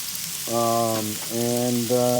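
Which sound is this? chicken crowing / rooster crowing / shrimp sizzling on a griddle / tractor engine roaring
shrimp sizzling on a griddle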